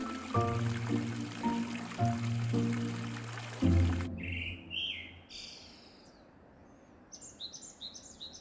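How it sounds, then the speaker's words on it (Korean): After a few low tonal notes, birds chirp and trill in short bright phrases over a steady wash of clear flowing water at a mountain temple hermitage on Duryunsan, South Korea. "새소리와 맑은 물소리, 일지암에서의 차는 마음 수양입니다."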